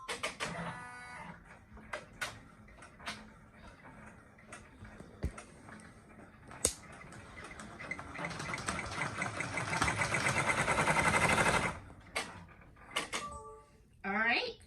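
A home embroidery machine stitching a microfiber beach towel runs with a rapid mechanical whirring that builds for several seconds, stops abruptly, and is framed by scattered clicks and knocks from the machine.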